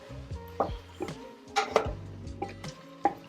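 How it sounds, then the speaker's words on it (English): Potatoes stirred into beef stew sauce in a Ninja Foodi pot: a spoon knocks and scrapes against the pot in a few separate clunks, with light clatter between strokes, close and fairly quiet, no talking. "I'm just going to put the potatoes in, give them a good stir, and get them covered in the sauce"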